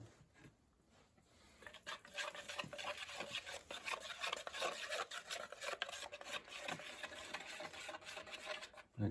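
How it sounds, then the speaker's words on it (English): Melted soap base tinted with a few drops of lilac colour is stirred for a sugar-scrub massage bar, giving a steady close scraping and rubbing that runs continuously with no talk. "Go ahead and give that a stir up."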